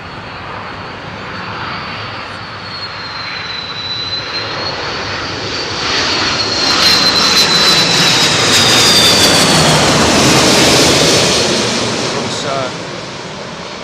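An Airbus A330 airliner passes overhead during Storm Eunice, its jet engine roar swelling from a distant whine to a loud, broad rumble and then easing off, with wind noise underneath.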